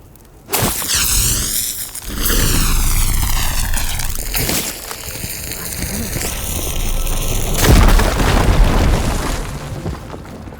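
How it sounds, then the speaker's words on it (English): A firegleam blown up in Horizon Forbidden West, a loud booming blast with a rising whoosh and rumble that sustains for several seconds, swells again, then settles into a lingering roar. "Should be able to blow up that fire gleam."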